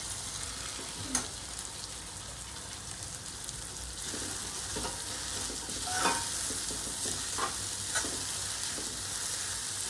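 Finely chopped capsicum for pav bhaji goes into vegetables already frying in a pan, bringing a bright, continuous sizzle broken by a few soft stirring scrapes and taps, with no voices.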